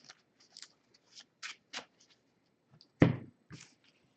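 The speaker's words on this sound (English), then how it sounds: "I'll just shuffle it because it doesn't really matter." Cards from a deck shuffled during a tabletop Legacy Magic: The Gathering match, a string of soft short riffling bursts and one louder sharp snap near the end, close and quiet with no talk over it.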